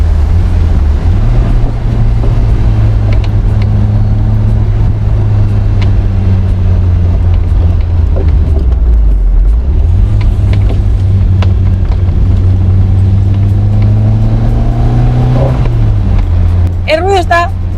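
A 1979 Volkswagen Golf Cabriolet with a carburetor engine drones loudly and steadily, and its pitch shifts as the car accelerates and changes gear, with wind noise and someone talking over it.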